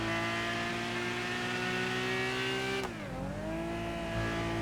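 American police car engine in a modded GTA video game, a loud steady engine drone whose pitch holds level, then drops sharply as the car slows or shifts, with a brief tire-like squeal, alone without talk.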